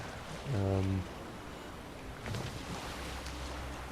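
A sailing ship crosses the open sea in The Witcher 3, off the Skellige isles, with a steady wash of waves and wind around it. A short tonal swell rises early in the clip over the hushed, continuous ambience.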